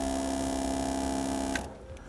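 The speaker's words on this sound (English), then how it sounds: "With these 2 wires hooked up, we can now try out our compressor." A Firestone Air Command standard duty air compressor running, a steady electric hum and buzz with a tonal whine that cuts off abruptly near the end, no talking.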